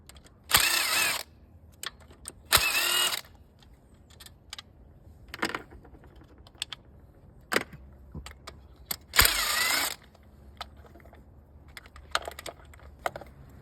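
Several short, separate bursts of a ratchet spinning off 10 mm valve cover bolts on a 2020 Hyundai Veloster N engine, close and clicky, with quiet pauses and small tool clinks between them.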